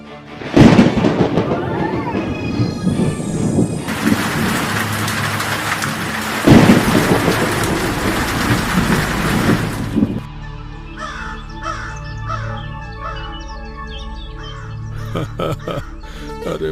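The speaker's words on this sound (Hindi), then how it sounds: "इस बारिश को भी अभी आना था।" Heavy rain pours over a tomato farm field while thunder rumbles loudly, and crows caw through the later part of the storm, steady and close throughout.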